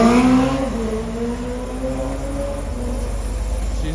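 A Corvette C6 ZR1 with its LS9 engine idles close by, a loud, lumpy rumble with a rough cam note that swells briefly at first and then settles into a steady, throbbing idle.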